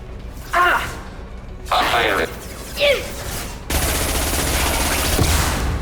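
Gunfire in the Mass Effect 2 video game, with several short loud bursts followed by a sustained dense barrage of rapid fire over game sounds.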